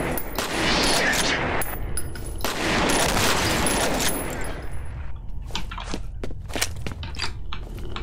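A new weapon in the F.E.A.R. video game fires in dense, rapid bursts for the first half, followed by sparser, sharp single cracks toward the end, loud and close.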